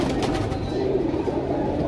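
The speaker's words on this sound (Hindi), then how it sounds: "काला झाक सारंगपुरी कबूतर है" A black Sharangpuri pigeon coos in a low, continuous rumbling murmur, close and steady throughout, with no voices over it.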